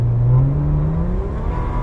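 A car accelerates hard while overtaking a tractor-trailer truck on the road, its engine note rising in pitch in a steady close-up whir that sustains throughout with no talking.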